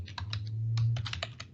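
Quick bursts of computer keyboard typing, a few keystrokes at a time with short pauses, close and clear over a low steady hum, with no voices.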